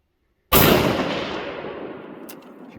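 A single loud rifle shot fired during a Shiras moose hunt in Washington, a sharp close blast with a long rolling echo decaying over the next two seconds.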